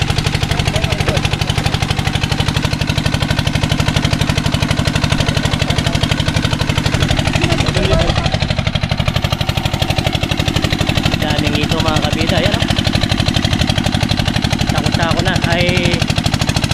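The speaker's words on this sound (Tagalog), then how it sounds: "maingay yung makina" A loud, noisy engine runs without a break, rough and clattering throughout, with voices faintly heard under the din.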